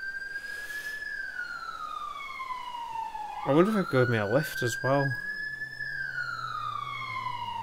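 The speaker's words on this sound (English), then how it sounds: "I can actually hear sirens." Emergency vehicle sirens in GTA 5 during roleplay: a steady wailing siren rises and falls slowly throughout, with a brief burst of fast yelping siren in the middle, while someone speaks briefly over it.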